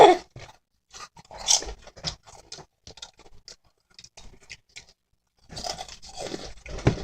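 Close, crisp crunching of Ogamja potato snacks dipped in chili sauce being chewed, a steady run of small irregular bites and munches with brief quiet gaps.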